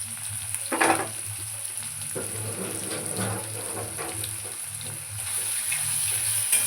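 Tomatoes with salt, turmeric and sugar fry in oil for a pumpkin mash. A close, steady sizzle carries a few scraping stirs and clatters, with a high whine running through and no one speaking.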